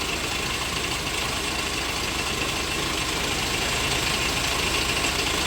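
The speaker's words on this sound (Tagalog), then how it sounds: "Ganyan talagang andar ng YC40 130 Sinotrack." The YC4D130 engine of a Sinotruk forward dump truck runs steadily at idle, close up, with an even, constant rumble and faint knocking texture and no pauses.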